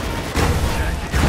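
A grenade blast in the third-person shooter Spec Ops: The Line, a loud, dense burst of low rumble that fills the whole short moment and swells again near its end.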